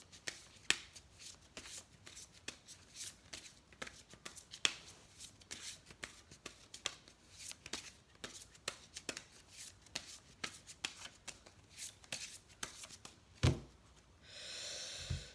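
Tarot cards shuffled by hand, a steady run of crisp riffling flicks and taps up close, ending with a brief louder clack and a soft rustle.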